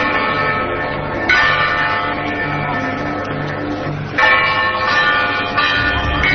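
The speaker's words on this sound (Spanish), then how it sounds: "Estas son las campanas, así suenan campanas, de un lugar llamado Fátima" Church bells at the Fátima sanctuary toll loudly and steadily, with fresh strikes about every second or so ringing over a sustained, ringing metallic hum; no voices.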